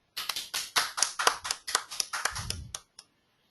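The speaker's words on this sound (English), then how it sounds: "Guys, can we have a huge round of applause for Dheeraj?" A small classroom group gives a round of applause, about a dozen sharp, separate claps in a steady rhythm, close and clear, ending abruptly with one last clap.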